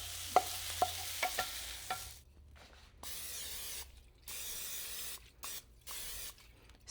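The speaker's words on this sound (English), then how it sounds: "Spray it so it doesn't stick." A few sharp clicks followed by several bursts of hissing cooking spray sprayed into a bowl, each lasting about a second, close and fairly quiet, no voices.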